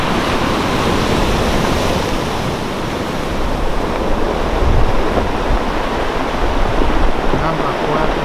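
Ocean waves crash and roar beside a railway line on the Hokkaido coast, a loud, continuous surf wash with surging swells and no speech.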